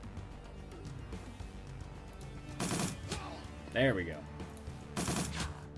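Bursts of gunfire from the Shadowrun video game, two loud broadband volleys about two seconds apart, mixed with game sounds and someone talking over them.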